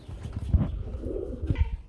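Pigeons at a pigeon farm giving soft, low cooing calls, a few close coos with some rustling over a short stretch.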